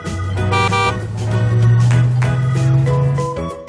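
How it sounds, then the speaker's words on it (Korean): A toy taxi sounds its horn in a run of tooting, musical honks, loud and close, with a sustained low tone swelling in the middle and no speech. "Taxi. 택시."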